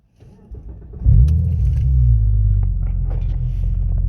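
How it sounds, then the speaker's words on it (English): A Porsche Boxster 3.2S flat-six engine cranks briefly, then catches with a deep rumbling roar and settles into a throaty idle, close and loud. "let's start it up and have a listen to that amazing flat six engine"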